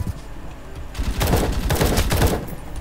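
Gunfire in the Roblox war game War Tycoons, quiet at first, then a loud burst of rapid automatic shots crackling densely for the last couple of seconds, with no voices.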